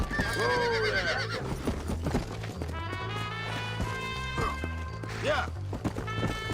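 Horse neighing and whinnying over galloping hoofbeats in Red Dead Redemption, with rising and falling whinnies near the start and end above steady clip-clop and a game soundtrack underneath.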